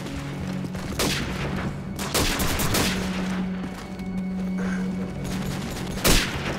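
Rapid bursts of automatic gunfire and sharp single shots in a Call of Duty: Modern Warfare team deathmatch, loud and close, with short pauses between volleys and a final punchy blast near the end.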